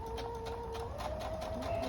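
A sewing machine stitches scrappy quilt fabric pieces at a slow, even pace, its motor whirring with a steady rapid clatter of the needle, faint and close.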